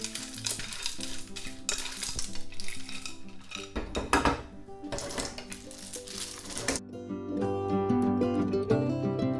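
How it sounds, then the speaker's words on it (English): Clams cook in a pan for spaghetti alle vongole, sizzling and frying loudly while a utensil stirs and clatters against the metal pan, with shells clinking; the sizzle thickens and steadies toward the end. "Add your clams."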